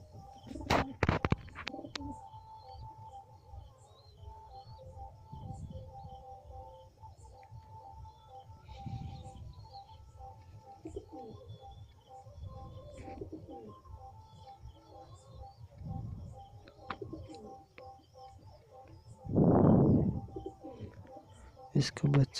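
White Madras pigeons, a breeding pair with young, give soft low coos in spaced bursts, one louder coo near the end, under faint background chirps and household noise.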